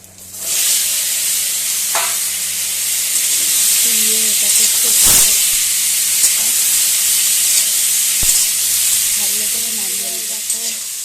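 Cumin seeds, cut potatoes and vegetable stalks frying in hot oil in a pan, a loud continuous sizzle with a few sharp stirring knocks and clinks.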